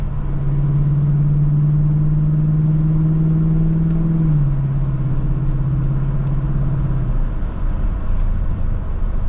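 Lexus LC 500 engine and exhaust heard from inside as the driver lifts off the accelerator around 3,500 rpm, a steady loud low drone that drops in pitch partway through, then fades into road rumble.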